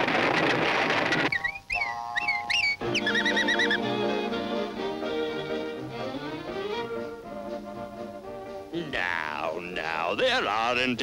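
A magpie call sounds in a cartoon setting, sharp warbling chirps that rise and fall in short bursts, heard between and under voices talking, with music underneath.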